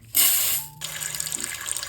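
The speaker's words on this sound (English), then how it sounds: "I want you to rinse the rice 2 to 3 times" Water runs from a tap and splashes into a sink while rice is rinsed, a loud burst at first that settles into a steady, softer flow with light sloshing.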